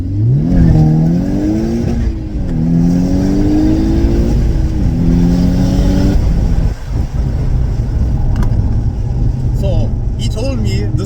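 Old Ford car accelerating hard, engine note climbing through rising sweeps with gear changes, loud and close inside the cabin, with people talking over it.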